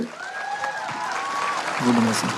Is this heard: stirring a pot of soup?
no